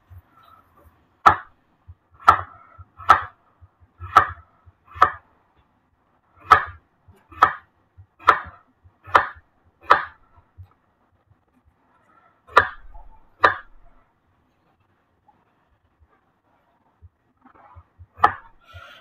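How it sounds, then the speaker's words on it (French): A knife cuts potatoes into thin slices on a board, giving a series of crisp, separate chops in an uneven rhythm, a dozen or so close and distinct, with pauses between groups. "je prends les pommes de terre. Donc, on va faire des lamelles."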